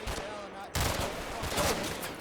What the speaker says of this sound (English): The company focuses on its suppressive fire.